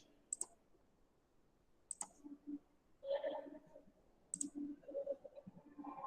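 A computer mouse clicks three times, each a sharp, isolated tap spaced a couple of seconds apart, close and quiet in a still room with faint background murmur.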